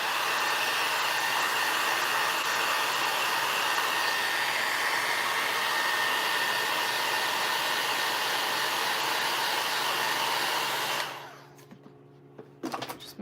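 A heat gun warms resin on a craft book stack, giving a loud, steady blowing roar for about eleven seconds before it cuts off, followed by a few faint clicks and handling noises.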